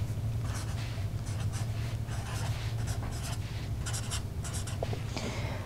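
A pen scratches steadily across paper as a place value table for binary and hexadecimal numbers is written out by hand, with short strokes and taps over a constant low hum.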